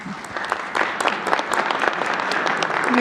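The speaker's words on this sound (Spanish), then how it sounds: "Un aplauso, claro." Audience applause at a press conference in Mexico, a dense steady clapping from a crowd lasting a few seconds, fairly close and loud with no talk over it.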